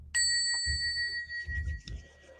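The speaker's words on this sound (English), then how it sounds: "Let's ring the bell." A struck bell rings once with a bright, sustained metallic tone that holds steady after a sharp attack, close and clear, with some low handling knocks and rustles beneath it.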